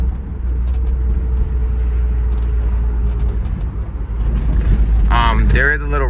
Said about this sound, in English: I guess this car has the OEM heat shield on the mufflers, and I need to take that off as it's rattling.